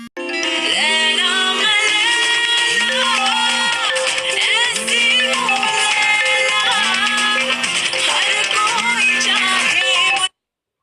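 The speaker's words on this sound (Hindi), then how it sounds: "इसमें रिंगटोन की जगह वीडियो रिंगटोन बजेगा" A video ringtone plays on a mobile phone for an incoming call: a bright, repeating melodic tune loops steadily and loudly for about ten seconds with no talk, then cuts off abruptly.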